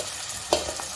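Mutton goes into a hot cooking pot for mutton masala with a brief sizzle and stirring burst, one soft thud and clatter in the middle of a short stretch of steady frying noise.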